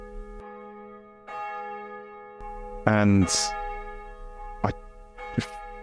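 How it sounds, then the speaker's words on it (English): Distant church bells toll repeatedly, their ringing tones lingering and overlapping, while a voice briefly speaks partway through. "I heard church bells in the distance from our local church."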